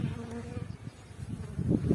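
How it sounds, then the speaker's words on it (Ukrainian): Honeybees buzzing on a brood frame filled with brood during a beehive split, a close, low droning hum that swells and fades, louder toward the end, with no voices. "Він наповнений розплодом заповнений бджолою."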